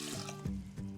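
Water pours into a cooking pot holding a cup of rice, a close, full splashing and gurgling stream with slight surges in flow.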